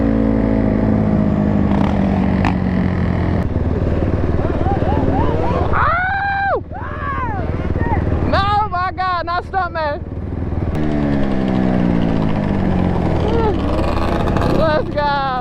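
Monster Edition 450 dirt bikes ridden on a dirt track, loud engines revving and rising in pitch through throttle bursts and gear changes, passing close by, with a voice speaking over the engine noise.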